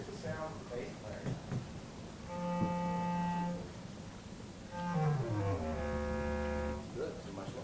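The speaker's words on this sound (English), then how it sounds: "So here's the sound of the bass clarinet." Bass clarinet playing two fairly quiet held low notes, the second sliding downward, over a murmuring room with faint background voices.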